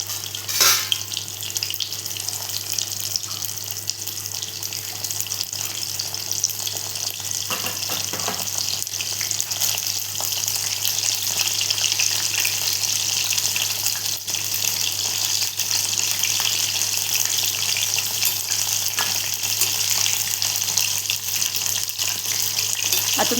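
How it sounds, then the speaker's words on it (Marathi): Mushroom pakoras frying in hot oil give a steady, close crackling sizzle that runs without a break, with occasional faint clinks and shifts as they cook. "छान असं फ्राय करून घेऊया."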